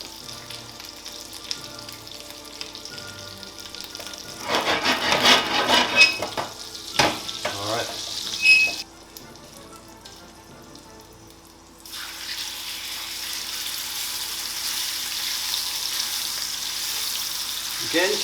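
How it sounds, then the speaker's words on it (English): A Scotch fillet steak goes into fresh hot fat in a pan over medium heat, setting off bursts of crackling sizzle and clattering handling noise, then a quieter pause before a steady, even frying hiss settles in. "Now I'm going to turn the heat back up to medium, put in some fresh fat, and put in our Scotch fillet."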